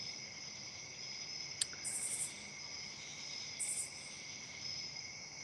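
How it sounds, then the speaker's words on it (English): Steady high insect chirring fills the background, with two brief louder buzzing bursts rising above it, faint and outdoors. "yeah, that was a pretty good cicada."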